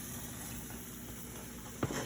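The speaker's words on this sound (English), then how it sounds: "So the halbeh is boiling, so I'm gonna turn the stove off and take it off the heat" Fenugreek (halbeh) seeds in water simmer on a stove with a steady, quiet hiss of bubbling, and a brief clunk sounds near the end.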